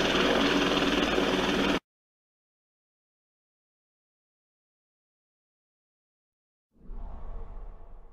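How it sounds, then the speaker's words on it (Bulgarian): Helicopter rotor and engine noise played back through surround speakers arranged over an audience, loud and dense at first, then cutting to total silence before fading back in more softly. "чрез поставяне на говорители над публиката може да се създаде толкова реалистичен звук, че хората да се почувстват, сякаш хеликоптерът наистина кръжи над главите им"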